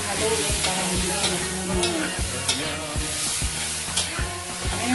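Shrimp cooked in butter with spices sizzles in a pan while a utensil stirs it, giving repeated scraping strokes in a steady rhythm over a constant close fry.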